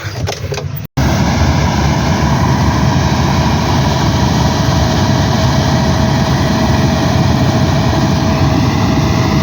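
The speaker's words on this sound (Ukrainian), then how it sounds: "Ось так, бачите, ми молотимо." A combine harvester threshes barley in the field, giving a loud, steady, droning engine and machinery roar that holds constant after a brief cut at the start, with no speech.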